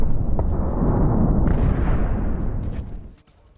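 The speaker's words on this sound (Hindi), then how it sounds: "हिजबुल्लाह के तमाम ठिकानों को निशाना बनाकर गिराए गए हैं बम" Airstrike bomb explosions in south Lebanon, a loud rumbling roar of blasts that continues for about three seconds and then fades out, with no voices.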